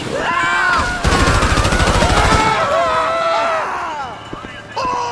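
A rapid burst of automatic gunfire in GTA V rattles loudly for about a second and a half. Electronic tones and other game sounds run before and after it.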